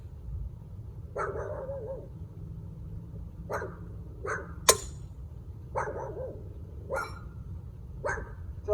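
A dog barks in scattered single and double woofs, fairly close and clear, over a steady low rumble of a boat engine on a sunset cruise.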